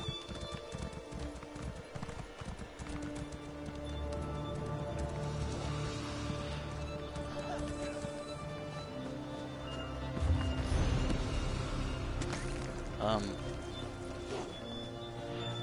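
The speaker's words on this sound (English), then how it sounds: "Is this just a random wild horse?" Horse hooves clip-clop steadily nearby on firm ground, a wandering horse at a witches festival, with crowd murmur and faint voices in the background.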